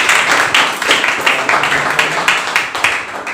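A church congregation claps along during a Sunday evening service, a loud, fast, even run of claps that carries steadily from start to finish.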